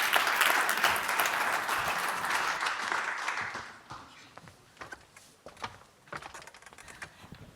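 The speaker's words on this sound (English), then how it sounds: "Please welcome them all with a round of applause" An audience at a tech investment conference applauds a panel taking the stage, with dense, loud clapping for several seconds that thins out to a few scattered claps and fades.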